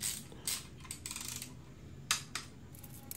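A torque wrench ratchets on engine main and rod bearing bolts at an 18 foot-pound first step, giving several short metallic clicking bursts with pauses between, close and clear without talk.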